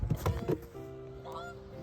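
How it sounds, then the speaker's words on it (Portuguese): Wild ducks call out as they come in to land, a few loud honking quacks up close at first, then softer drawn-out calls trailing off. "São patos selvagens, outros estão chegando aqui."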